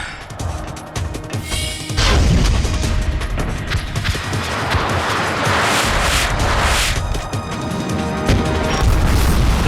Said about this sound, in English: Mi usa il Gatling.